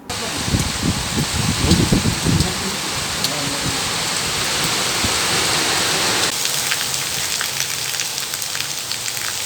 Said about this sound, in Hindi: जहां पर आज सुबह से रिमझिम बारिश का माहौल है।